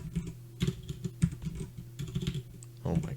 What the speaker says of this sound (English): my typing's awful